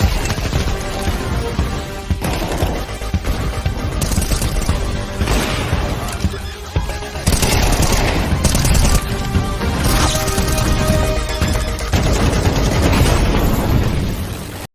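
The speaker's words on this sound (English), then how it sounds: "Counter-Strike is known for its visceral and satisfying gunplay." Loud, dense gunfire in the Counter-Strike 2 video game, bursts of shots mixed with explosions and shattering impacts, going on without a break and building toward the end.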